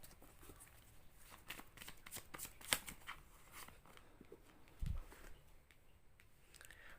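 Tarot cards shuffled by hand make a steady run of soft riffling clicks and papery rustles, close to the microphone and fairly quiet, with one sharper snap partway through.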